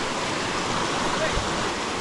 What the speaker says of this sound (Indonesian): Ini kita berarti sungai nih.